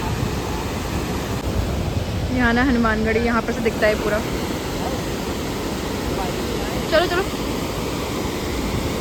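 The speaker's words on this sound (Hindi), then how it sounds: "कितना तेज फ्लो है भाई पानी का" Fast-flowing Gaula river, swollen by continuous rain in the hills, rushing as a broad, loud, steady roar while someone talks over it.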